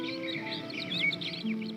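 Small birds chirping and chattering in a quick, overlapping stream of high tweets over a steady background hum from an old filmstrip soundtrack.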